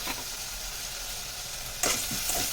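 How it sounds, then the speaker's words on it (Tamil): Ginger and garlic sautéing in a pan for radish sambar, a steady close sizzle with a louder burst of stirring and scraping toward the end. "இப்போ இஞ்சி பூண்டு போட்டு நல்லா வதக்கணும்."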